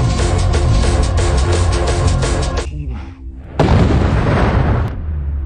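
An explosion in a film booms loudly through a dense roaring rumble. After a brief dip it bursts again into a heavy crackling blast, close and with no talk.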